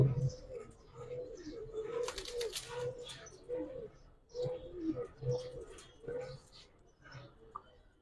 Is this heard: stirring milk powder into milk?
no